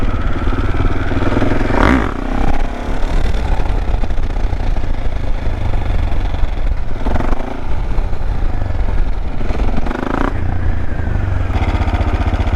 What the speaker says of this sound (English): It's a single cylinder, so that's why it sounds like that.